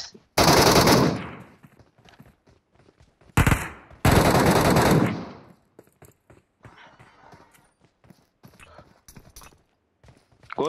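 Gunfire in the mobile battle royale game PUBG Metro Royale: two loud, long bursts of automatic fire, one at the start and another a few seconds later, each followed by quieter scattered clicks and footsteps.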